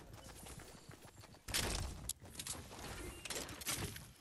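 In a battle royale shooter, enemy gunfire rings out in quick distant bursts. The volleys are fairly faint, with one sharper, louder round partway through amid ongoing game ambience.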